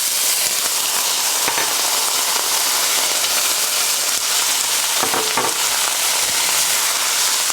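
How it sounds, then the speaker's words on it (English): Onions sizzle loudly in a hot pan of oil while cooking khada masala chicken, a continuous dense hiss with a few brief stirring clatters partway through. "And so now the onions go in."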